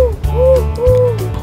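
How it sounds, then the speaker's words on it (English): Two long, clear owl hoots in the Arabian desert, each a smooth wavering tone over a low steady hum, close and loud with a short pause between them. "it's an owl, right? I feel like it's an owl as well"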